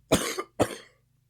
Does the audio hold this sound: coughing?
yes